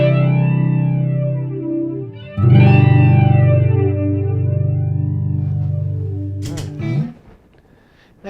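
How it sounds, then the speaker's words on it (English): Electric guitar played through an MXR EVH flanger pedal, sustained distorted chords with a sweeping jet-like swirl, struck twice and ringing loud and close before a short final pick noise. "I think this particular MXR flanger, especially this EVH, it's a very, very narrow thing"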